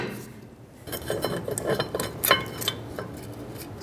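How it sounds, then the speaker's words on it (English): Metallic clinks and scrapes of a brake rotor being slid onto the rear wheel hub of a 2012-2018 Nissan Altima, a scattered series of close, light rattles and knocks. "Slide the rotor on."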